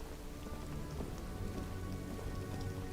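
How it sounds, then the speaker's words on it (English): Steady rain pattering on surfaces in the game Disco Elysium, a continuous dense hiss of drops with no voices. "It's raining again."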